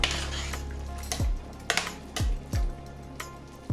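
Spoon stirring green beans and potatoes with basil, thyme and oregano in a pot, giving a few separate clanking scrapes against the metal at irregular moments, with no talking.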